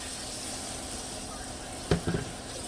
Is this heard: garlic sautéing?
yes